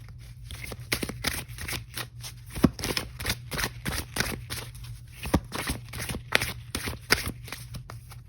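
Tarot cards being shuffled by hand in a steady run of rapid, crisp riffling flutters, close and continuous over a low hum, with no talking.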